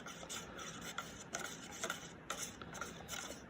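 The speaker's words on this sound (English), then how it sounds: "I'm just gonna mix it up a tiny bit with my popsicle." A wooden popsicle stick mixes forty drops of blue dye in a small container, giving quiet, close scraping and rubbing strokes in an uneven rhythm against a faint background hiss, with no talking.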